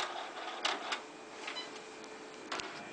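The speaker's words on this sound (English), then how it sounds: "Now I'm going to put the check back into the printer to hand the voided check back to the customer." A receipt printer prints on a voided check at a payment counter, faint whirring with a few short mechanical bursts, quiet and close in a calm room.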